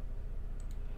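Two quick mouse clicks, a double-click made while designing a graphic in Canva, sit close together late in a short stretch of low room hum.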